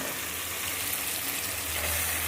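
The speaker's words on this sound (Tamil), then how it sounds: "இது அரை கிலோ சிக்கனு நான் கழுவி வச்சுருக்கேன் இந்த சிக்கனையும் இது கூட போட்டுருவோம்" Half a kilo of washed chicken pieces tipped into a pan of sautéed onion and tomato, giving a loud, steady sizzle that fills the whole moment with no voices.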